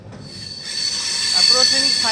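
An Indian Railways train from the Delhi Junction side rolls past near Sahibabad Junction, wheels squealing in a sustained high shriek that grows louder over a rumbling rail roar.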